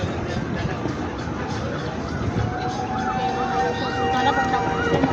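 Fire truck sirens wail and rise and fall as the trucks approach a residential fire in Zapote, Bacoor, Cavite, the sweeping tones getting louder over a busy street background with a voice speaking over them.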